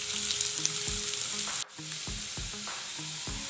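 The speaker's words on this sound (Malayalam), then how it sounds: "ഇനി ഓയിൽ കുറച്ച് ഇതിന്ന് മാറ്റിയെടുത്തിട്ട് ഇതിൽ തന്നെ നമുക്ക് സവാള ഫ്രൈ ചെയ്തെടുക്കണം." Onions fry in leftover oil in a pan for beef cutlets, giving a steady, close hiss of sizzling with soft, rhythmic stirring taps underneath and a brief dip in the middle.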